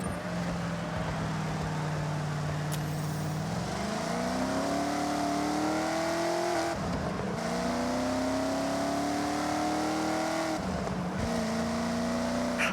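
Racing video game car engine held at steady revs, then dropping through a downshift with a blip of throttle in the middle, rising and falling pitch sweeps over 13 seconds, loud and close with no talk.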